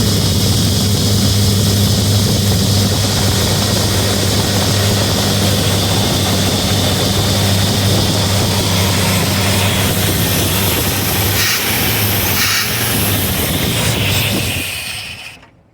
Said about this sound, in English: it's not out of gas because it's running really lean